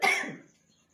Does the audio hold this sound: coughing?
yes